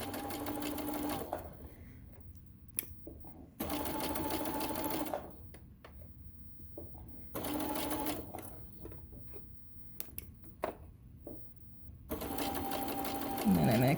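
A home sewing machine stitches a tote bag in three or four steady whirring bursts, with quiet gaps between them filled by small handling clicks and brief soft talk.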